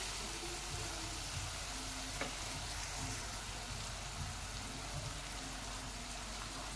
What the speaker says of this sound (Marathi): आता हे सगळं छान परतून घ्यायचं आहे।